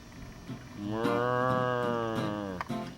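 A cow lets out one long, loud, close moo that swells and holds for about two seconds on a hiking trail, with faint outdoor ambience before and after.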